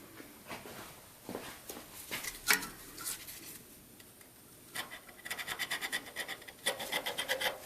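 A points file scrapes the rough ignition points on an old VW barn-find engine that sat for 24 years, in short rasping strokes, with quick repeated scratching bursts near the end.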